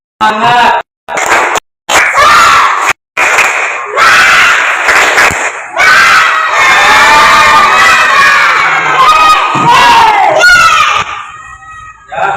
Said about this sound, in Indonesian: Yuk tepuk semangat lagi. Tepuk semangat.